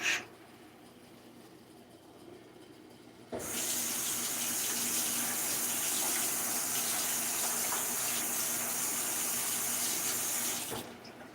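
Tap water running at a sink while something is washed, a steady close gushing stream that starts abruptly after a few quiet seconds and cuts off near the end, with no talk.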